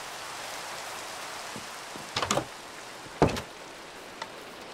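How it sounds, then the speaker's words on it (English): Steady rain falls in the blocky survival game Minecraft, a soft continuous patter with a few louder knocks and clicks scattered over it. "Hey, the rain will be good for my crops."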